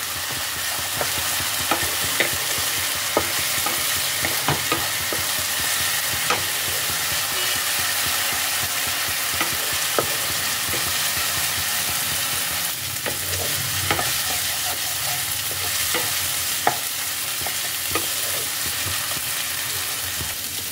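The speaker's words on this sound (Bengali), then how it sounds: "আদা রসুনের পেস্টটাকে তেলের মধ্যে ভালো করে কষিয়ে নিতে হবে" Ginger-garlic paste being fried in oil for dhaba-style matar paneer, a continuous close sizzle with regular scraping and stirring taps from a spatula throughout, with no talk.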